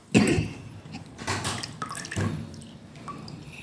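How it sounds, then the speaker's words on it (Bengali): Water drains off soaked biulir dal (black gram lentils) in a kitchen, with a few splashy pours and drips in separate bursts, fairly close and moderately loud, no talking. "ডাল ভিজিয়ে দিয়েছি, জল ঝরিয়ে দিচ্ছি।"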